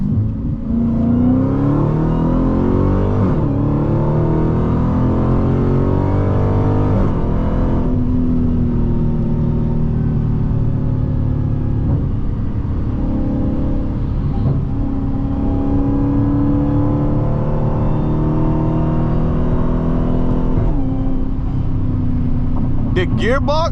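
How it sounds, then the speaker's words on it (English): An 800 hp Dodge Hellcat pulls hard from a 30 mph roll, its loud engine climbing through rising revs with shifts between gears, heard up close from inside the car as a steady roar that lasts the whole run. "The gearbox on this Hellcat is so smooth"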